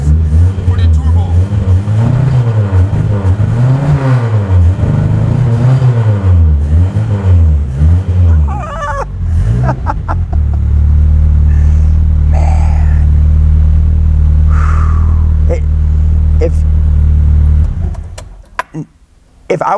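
A turbocharged Honda engine revs up and down repeatedly, rising and falling in pitch, then settles into a loud steady low rumble before cutting off.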